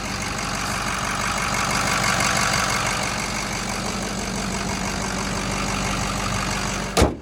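An old 6-liter truck with factory exhaust idles steadily up close, a low, even rumbling purr that holds throughout, ending with a brief sharp knock or click.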